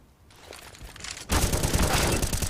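Counter-Strike gunfire with a wall bang shot down mid, a sudden loud sustained burst of rapid shots after a quieter buildup, with no talk over it.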